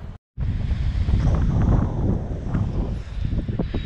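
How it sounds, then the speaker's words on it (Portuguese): Strong wind on a small beach in San Francisco, buffeting the microphone in a loud, continuous low roar with gusty rumble and faint surf behind it, briefly cut off near the start. "hoje está horrível, está muito vento mesmo"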